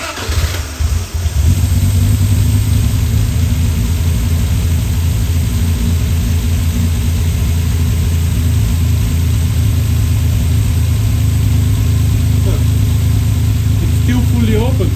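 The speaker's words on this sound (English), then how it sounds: "So let's start the car again" A car engine turns over and settles into a steady, loud idle with a low rumble throughout, while a person talks briefly near the start.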